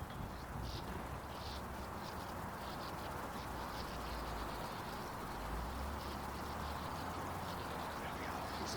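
A colony of sand martins chatters over a working quarry, a dense, constant twittering with repeated bursts of calls at a moderate distance, heard alone under a steady broadband background hiss.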